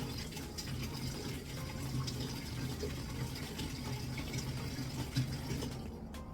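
Hot water pours steadily into a pot of sauce around the edges, a continuous gushing, splashing stream heard close and loud for several seconds with no talk.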